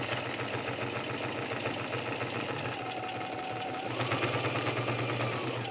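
A home sewing machine backstitches through cork fabric with a short stitch length. It gives a fast, steady mechanical whir with rapid needle ticking that shifts slightly in pitch partway through, close and continuous with no voices.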